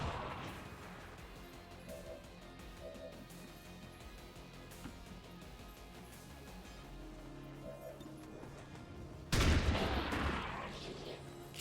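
A grenade detonates in XCOM 2 Long War of the Chosen: after a long stretch of quiet ambient game sound with faint beeps, a sudden loud explosive burst hits near the end and fades into a rumbling decay.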